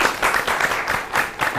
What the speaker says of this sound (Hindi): अब हम सब आपके लिए ताली बजाएंगे